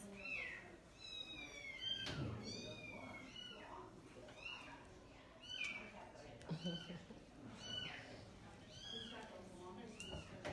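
A kitten meows repeatedly during bottle feeding, a series of high, rising cries close to the mic, with a person speaking quietly underneath at times.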